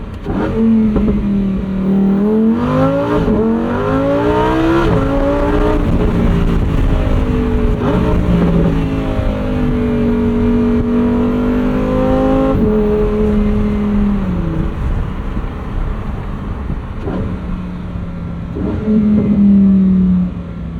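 A 2022 Lamborghini Huracán STO's V10 engine revs up and down through the gears for a long stretch, its pitch climbing and falling repeatedly, loud and close, beside a cornfield.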